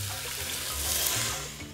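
Two cups of water poured into a pot of washed rice and fried garlic, a steady close rushing splash that swells and then eases off.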